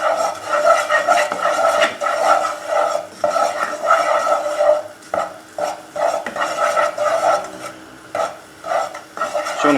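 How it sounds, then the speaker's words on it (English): A spoon stirring flour into melted butter in a pan for a lasagne sauce, rhythmic scraping strokes against the metal with soft pauses between, close and fairly loud, no talking. "We're going to add our flour, and we're going to cook the flour out for a minute. Just stirring it round."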